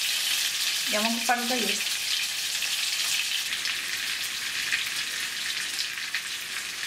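Meat cutlets frying in a pan, a steady broadband sizzle running throughout the clip, with a short spoken phrase near the start over the crackle.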